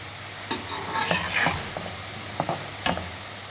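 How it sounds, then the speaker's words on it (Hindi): Potatoes for aloo fry sizzle in a pan over a full flame while a spoon stirs them, the steady frying hiss broken by several scraping strokes and one sharp clink near the end. "अच्छी तरीके से चम्मच चलते रहने दें,"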